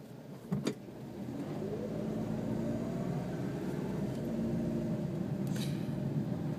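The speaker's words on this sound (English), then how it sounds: "That's a taxi." A taxi drives past on a street in Japan, its steady engine and tyre noise holding for several seconds fairly close, with a brief sharp knock near the start and a faint click toward the end.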